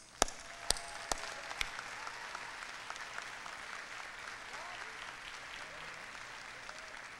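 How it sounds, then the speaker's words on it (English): Audience applause for Robin Davis at a live-streamed gathering, a few sharp claps at the start followed by steady, moderately faint clapping that continues evenly throughout. "Can I get a round of applause for Ms."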